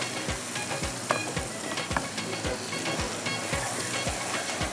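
Ground tomatoes and onion fry in a pan for fish kabab masala, a loud close sizzle punctuated by regular rhythmic spoon strokes scraping the pan about twice a second.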